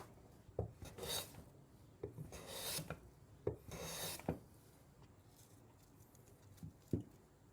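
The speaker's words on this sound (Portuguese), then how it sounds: "eu vou dar algumas passadas aqui nessa madeira e você vai poder ver o resultado gerado pela usinagem com essa plana de lâmina reta" A straight-blade hand plane is pushed across wood in several separate passes, each giving a short rasping shave with a soft knock at its start and end. The strokes are close and quiet, with no talking.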